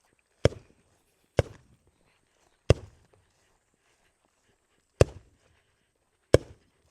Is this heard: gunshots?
yes